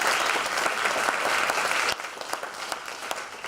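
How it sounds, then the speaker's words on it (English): A presentation audience claps for clients at a spring 2018 campaigns event, dense steady applause that thins slightly partway through. "How about a round of applause for our wonderful"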